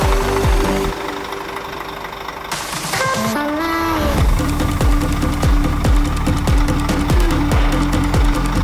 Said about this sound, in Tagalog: bakit nga ba ganyan ang tunog ng Scania engine?